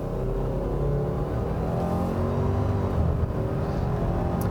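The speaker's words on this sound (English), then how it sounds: "Now that was a full throttle run in the intelligent mode, which is still plenty fast." A 2017 Subaru Forester XT Touring accelerates at full throttle in intelligent mode, its engine droning loud and steady from inside the cabin with a rising whir, no gear breaks evident.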